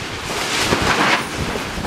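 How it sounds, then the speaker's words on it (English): Strong, gusty wind buffets the microphone outdoors near a house with a bent pole, a steady roaring rush with swelling gusts throughout and no talk. "The wind is going crazy."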